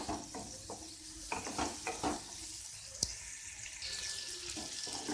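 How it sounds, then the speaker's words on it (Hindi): Potatoes and peas frying over a medium flame for a dry cauliflower, potato and pea curry, with close spatula scrapes and stirring, a sharp clank midway and a soft sizzle beneath. "फ्लेम मीडियम रखेंगे, मीडियम फ्लेम में हम सब्जी को अच्छे से भून लेंगे"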